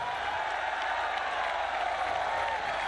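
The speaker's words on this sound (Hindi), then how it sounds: "जरा हाथ उठाकर तालियों की गूंज में बताइए कि आप इमरान खान से कितना प्यार करते हैं।" Large crowd at a PTI political rally in Gujranwala applauding steadily, a dense continuous wash of clapping that stays loud and even throughout with no voices over it.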